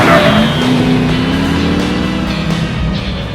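Mazda MX-5 Miata with a more powerful engine swap, accelerating on a race track: a loud, steady engine roar with rising pitch sweeps throughout, heard up close with no talking.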